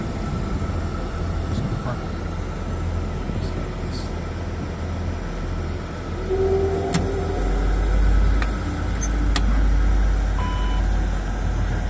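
A Gulfstream G200 business jet near a hangar starts its engine, a steady turbine hum and whine that swells into a louder, deeper rumble midway, with scattered beeps and clicks over it.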